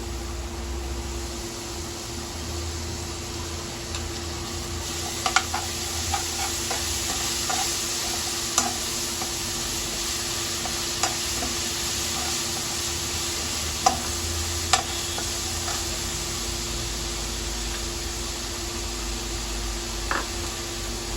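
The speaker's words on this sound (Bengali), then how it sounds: "আদা রসুনের পেস্টটা এখন দিচ্ছি।" Ginger garlic paste sizzles steadily in a hot pan for a Bengali dish, a constant hiss broken by occasional clicks and scrapes of a spoon stirring it.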